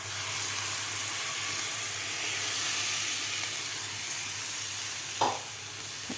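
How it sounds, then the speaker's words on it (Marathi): Besan (gram flour) batter sizzles and fries in a pan with raw mango pieces, a steady broad hiss throughout with a brief clink of a utensil near the end; no talking. "आता यामध्ये घालायचं आपल्याला हे बेसनचं मिश्रण घालायचं आपल्याला यामध्ये."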